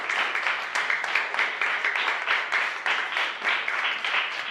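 Classmates give warm applause for a student who placed first in the semester. The clapping is steady and fairly close, with rhythmic pulses running through the whole stretch and no speech over it.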